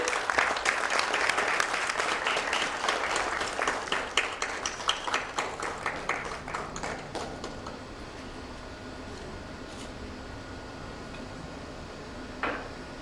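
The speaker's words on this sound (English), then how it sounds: "Let's have a round of applause again." Audience applause at a hospital's product launch event, loud and dense clapping for about seven seconds, then thinning into scattered claps and fading to a quiet room.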